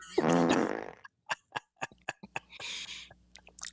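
A loud, close fart with a long buzzing stretch at the start, then a run of short sharp pops and a final drawn-out hiss, heard alone with no talk.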